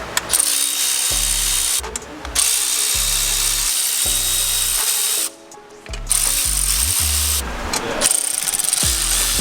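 Cordless power tool driving the 12 mm intake manifold bolts on a Subaru WRX, heard as several loud whirring bursts of a few seconds each, broken by brief pauses and a quieter gap in the middle, with ratcheting clicks between runs.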